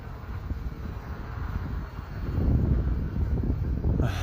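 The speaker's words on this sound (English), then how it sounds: "The wind picked up pretty nicely." Wind blows across an open field where a Hobbyzone Aeroscout model plane is flown, a steady broad rush buffeting the microphone that grows stronger and rougher partway through, without voices.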